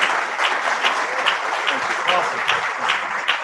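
Crowd applause for a state representative after his presentation, with sharp individual claps standing out over a steady rhythmic patter and a voice talking faintly underneath.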